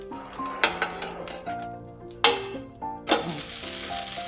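A crispy tomato dosa sizzles on a hot pan just after being flipped. The steady frying hiss sits beneath louder background music, with a few sharp clinks of a utensil against the pan.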